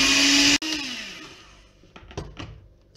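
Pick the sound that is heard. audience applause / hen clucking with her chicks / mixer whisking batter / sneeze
mixer whisking batter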